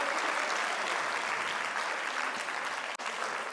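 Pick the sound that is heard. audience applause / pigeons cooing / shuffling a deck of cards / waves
audience applause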